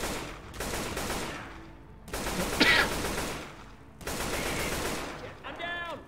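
Gunfire from the video game Left 4 Dead 2 comes in repeated rapid bursts of shots separated by short pauses, loud and close, mixed with other game sounds.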